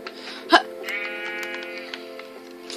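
A sheep bleats in the Minecraft video game: one sustained, wavering bleat at moderate volume, preceded by a short sharp in-game thump, with faint game noise around it and no talking.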